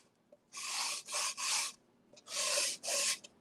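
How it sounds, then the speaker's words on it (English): Sandpaper scuff sanding an upcycled thrift-store find, five close, quiet rasping strokes in short bursts with brief pauses between them and no talking. "Okay, so I am just going to take and scuff sand just a little bit."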